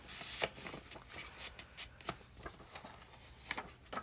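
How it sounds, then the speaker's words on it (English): Handmade greeting cards slid back into paper envelopes: a quiet run of papery rustles, shuffles and soft taps close to the mic, with no talking. "Put them back in their envelopes."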